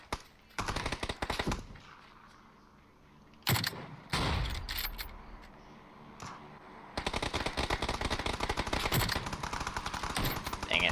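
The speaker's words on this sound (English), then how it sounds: "There's like so much shooting around us right now." Bursts of automatic machine-gun fire and gunshots in the battle-royale game PUBG, crackling in rapid loud volleys with brief lulls between them.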